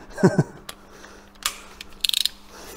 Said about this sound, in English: So set a torque wrench to 50.